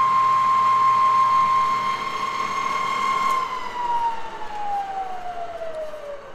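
An Edlund 1B 15-inch drill press runs with a steady, loud motor whine that sags in pitch as it spins down near the end.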